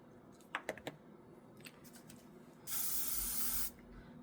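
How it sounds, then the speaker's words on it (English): A single one-second hiss of L'Oreal Paris Infallible setting spray onto a makeup brush, close and loud, after a few light clicks and taps. "Spraying my brush with L'Oreal Paris Infallible."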